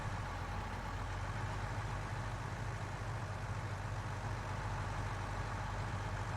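The engine of a Gleaner combine runs at high RPM while unloading grain into trailers, giving a steady, loud, droning roar with no break and no voices.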